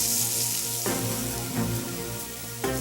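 Onions hit hot oil in a pan for a green chicken curry, giving a steady loud sizzle and hiss with a few soft stirring knocks.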